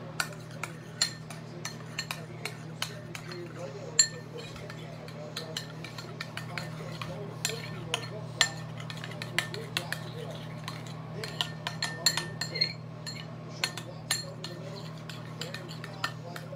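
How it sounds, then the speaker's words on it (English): A spoon stirs chicken nugget ingredients in a bowl, making a steady series of light metallic clinks and taps against the sides over a constant low hum, with faint talk now and then. "we take a spoon and we mix it all up"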